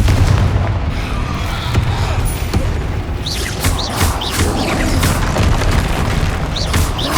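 Confringo fire spell blasts in Hogwarts Legacy, a run of loud booming explosions over continuous rumbling battle noise, with sharper bursts repeating toward the end.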